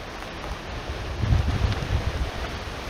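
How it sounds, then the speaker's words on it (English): Wind gusts rising in an open outdoor setting near Zion National Park, Utah, a low rumbling buffet against the microphone that swells about midway and stays steady, with no voices. "Oh, here comes the wind."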